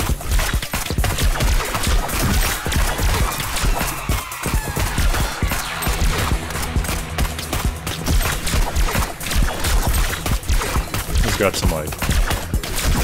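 Rapid-fire shooting from the player's gun in the shmup-style game Neon Abyss, a dense, relentless stream of shots over busy game music, with someone talking briefly over it.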